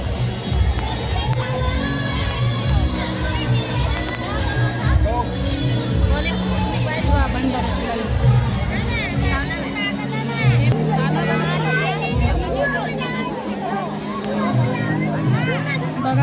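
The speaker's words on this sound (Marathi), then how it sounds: "किती गर्दी आहे" At a crowded Sai Baba bhandara, a loud crowd roars continuously with children shouting and cheering over the babble, and nearby voices talk throughout.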